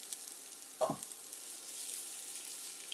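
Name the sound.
food sautéing in a pan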